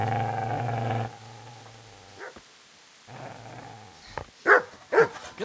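A hostile dog in the video game Kingdom Come Deliverance growls low and steady, then snarls and barks in short sharp bursts near the end, close and fairly loud with gaps of quiet between.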